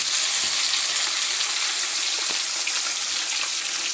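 Tomato-coated fish fries in a pan, two pieces at a time, with a loud, dense, continuous sizzle and faint crackles throughout, no talking.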